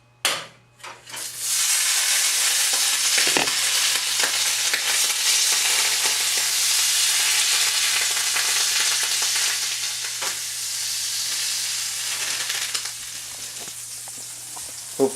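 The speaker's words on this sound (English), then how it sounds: "The skillet should be fairly hot now. So I'm adding a little bit of butter" A teaspoon of butter hits a hot skillet after a couple of clunks, then sizzles in a loud, steady hiss that eases slightly toward the end, with occasional utensil taps.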